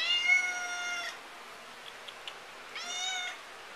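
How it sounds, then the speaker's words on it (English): A pet cat meowing indoors, two long, drawn-out meows separated by a pause with faint small clicks, close and clear with no talk. "It's non-stop. All she does is meow."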